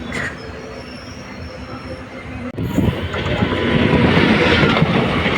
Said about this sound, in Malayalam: നമ്മുടെ ട്രാക്ക് ചേഞ്ചിങ് കേട്ടോ